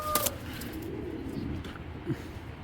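A large red checker female racing pigeon gives a short soft coo amid faint background noise, with a few light bird and handling sounds nearby.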